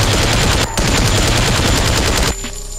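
Rapid automatic gunfire from the EVA 01 kaiju's hand-mounted gun in Roblox Kaiju Universe, a loud, dense, continuous stream of shots with a brief gap early on, then cutting off abruptly near the end.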